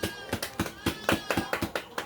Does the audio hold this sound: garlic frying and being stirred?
no